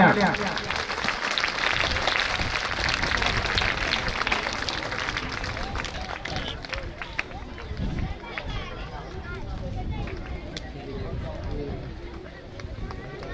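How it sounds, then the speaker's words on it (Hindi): A crowd at a school annual function claps loudly and continuously, with voices and murmuring mixed into the applause as it gradually thins out. "सर के लिए एक बार जोरदार तालियां"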